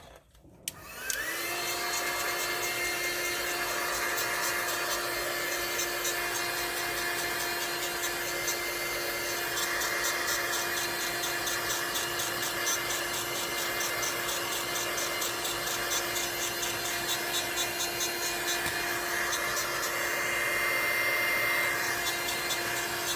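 A hair dryer blows steadily on a freshly made resin picture frame, a loud continuous whir with a high whine that starts abruptly and holds unchanged for over twenty seconds.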